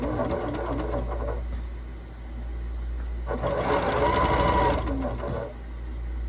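A sewing machine stitches chiffon seams with a close, steady mechanical whir that dips briefly and then picks up speed again, with no voices.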